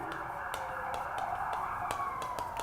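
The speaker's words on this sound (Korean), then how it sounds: "지금 긴급자동차 사이렌 울리네요" An emergency vehicle siren wails faintly in the distance, its tone gliding slowly. It carries on under a quiet indoor background broken by a few sharp clicks.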